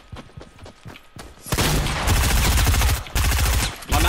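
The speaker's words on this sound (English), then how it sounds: "He's shooting at the other guys." Gunfire rattles in the Fortnite battle royale video game. A few scattered shots give way to loud, sustained rapid automatic fire with brief gaps, close and dominant.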